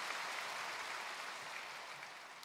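A church congregation applauds the choir after its hymn, a steady, even wash of clapping that holds for a few seconds, fairly distant and soft, then begins to fade.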